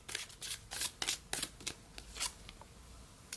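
A tarot deck is shuffled and a card drawn, giving a run of close, papery riffles and slides in an uneven rhythm, loud and nearby.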